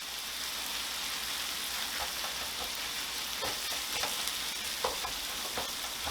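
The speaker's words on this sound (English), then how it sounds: "in go my carrots and my celery. Give them a little spread." Carrots and celery sizzle steadily in a hot pan for a shepherd's pie, with occasional stirring clicks and scrapes over the constant frying hiss.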